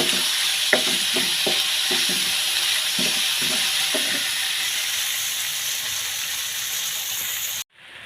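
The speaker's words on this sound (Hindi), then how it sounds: "ओहो ऑयल डाल दिया है। अब हम इसमें आलू डालते हैं, साथ ही प्याज डाल देंगे।" Diced potatoes and onions frying in hot oil make a steady sizzling hiss, broken early on by a run of clattering stirs against the pan, before cutting off abruptly near the end.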